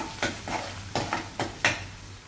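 A spoon scrapes and stirs red chili powder into spices in a pan, giving five short, faint strokes spaced evenly apart.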